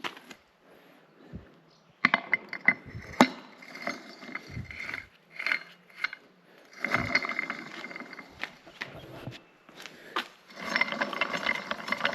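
A ratchet tightening small bolts on an excavator: bursts of close, sharp clicking in several separate runs, with pauses between them and clanks of metal, and no talking over it.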